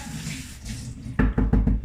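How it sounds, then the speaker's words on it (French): A pot of boiling sugar water being stirred, with low bubbling and then four strong knocking scrapes of the spoon against the pot in quick succession, close and fairly loud. "Je vais brasser mon bouillon"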